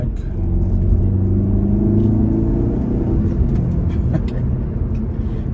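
An Audi A3 fitted with a swapped-in S3 engine accelerates on the road, heard from inside the car as a steady, loud low engine rumble with rising tonal bands, continuous for the whole stretch.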